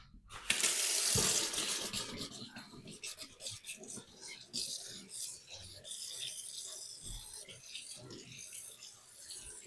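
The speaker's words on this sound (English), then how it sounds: "I'll just wash my hands" Hands being washed under a running kitchen tap during home cooking, a steady close splashing hiss of water that stays loud for most of the stretch, with a voice faintly heard alongside.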